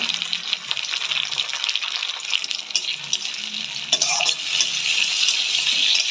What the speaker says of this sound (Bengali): আমার পেঁয়াজটা ব্রাউন হয়ে ভাজা হয়ে গেছে এবার আমি এর মধ্যে টমেটো দিয়ে দেব